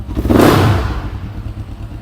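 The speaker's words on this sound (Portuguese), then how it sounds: "motocicleta funcionando perfeitamente" A Suzuki V-Strom motorcycle engine, recently repaired after a mechanical noise, revs up loudly nearby in a single burst, then settles back into a steady idle with no voices.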